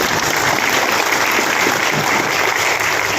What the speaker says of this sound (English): all of you need to give a round of applause to the university